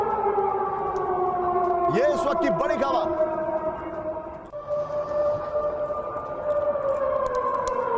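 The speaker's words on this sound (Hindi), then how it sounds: "सुनिए जरा सायरन की आवाज" A wailing siren in Moscow during a Ukrainian drone attack rises and falls in long sweeping tones, loud and sustained, while a news presenter talks over it.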